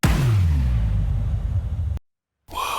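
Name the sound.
impact sound effect in a future bass track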